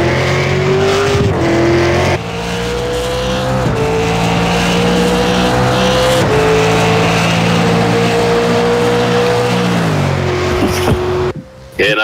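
Race car engine roaring continuously in the iRacing sim at a Bathurst race, revving up and shifting gears repeatedly with a loud, close, steady drone and a brief dip near the end.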